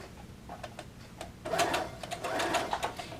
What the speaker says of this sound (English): put your needle right into that crease, and go ahead and start stitching